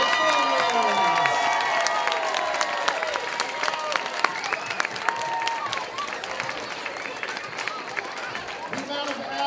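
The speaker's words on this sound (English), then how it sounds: "Another round of applause for our first grade performers." A school crowd applauds first grade concert performers with a burst of clapping and some cheering that gradually thins, while people chatter and talk over it.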